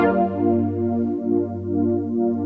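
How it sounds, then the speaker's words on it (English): A smooth R&B beat thickened by tube saturation: a sustained, warm, slightly gritty chord pad with a deep low end that swells and dips gently, heard alone and up close. "Just dialed in that saturation there using this tune box I've got"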